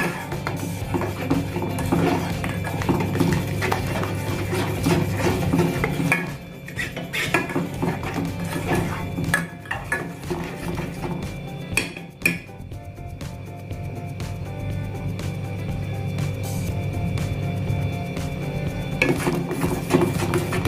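A spoon scraping and clinking against a pan while milk is stirred over a gas stove for mango kulfi, a steady run of metallic taps and scrapes with no talk.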